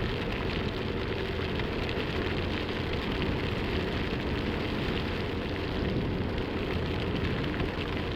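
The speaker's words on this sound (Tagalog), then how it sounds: "sobrang lakas ng ulan." Heavy rain roars steadily while riding a Honda Beat v2 scooter on a long highway trip, a dense, unbroken wash of rain and wind noise filling the whole stretch with no talk.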